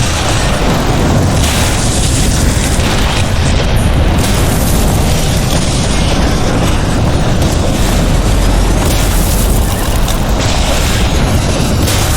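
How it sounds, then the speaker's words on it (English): Trebuchet boulders slamming down in The Witcher 2, a loud, continuous roar of booming impacts and rumbling debris with no pauses, heavy and close. "Trebuchets!"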